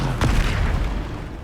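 A single deep boom from the Bombarda explosion spell in Hogwarts Legacy, a loud low blast that rolls off into a fading rumble, with no voice over it.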